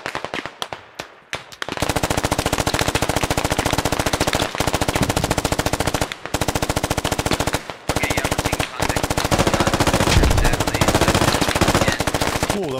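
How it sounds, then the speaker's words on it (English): In the SquadOps video game, a long burst of dense rapid gunfire goes off close and loud, broken by a few short pauses, after some scattered single shots at the start. "Shots due east."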